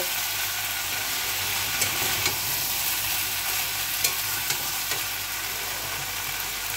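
Raw papaya, potato, bori and peas stir-frying with spices in a pan, a continuous close sizzle broken by several sharp spatula taps and scrapes, no voices.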